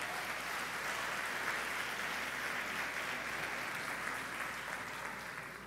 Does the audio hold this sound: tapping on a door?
no